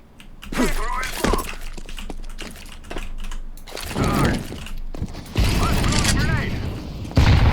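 Grenades and utility land and go off in Counter-Strike on the Vertigo map, loud, sharp bursts and clattering impacts separated by brief gaps, with in-game sounds layered throughout.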